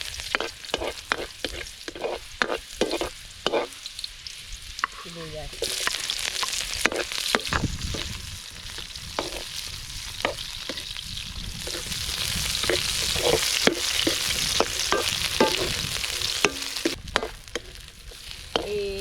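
Garlic sizzling and frying in a pan as the base for puchero, loud continuous crackle with repeated scraping stirs throughout, no talk.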